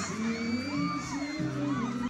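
Fans at a TV network stage event scream and cheer as a lead star comes out, a dense sustained crowd roar with whoops and shrill voices, heard from within the audience.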